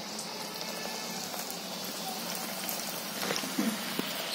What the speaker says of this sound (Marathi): आता मी ना तळते, एक मी त्याच्यात कमी तेलातच तळायचं